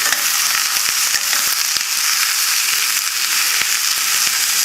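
Pork hock frying in a pan over a high flame, a loud, dense sizzle that runs steadily with small crackles and pops scattered through it, close up and with no talking.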